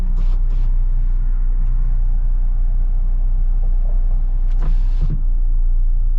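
The rear power windows of a 2025 Jeep Wrangler Rubicon soft top run down while the vehicle drives. Brief motor whirs come at the start and again near the end, over steady, heavy road rumble.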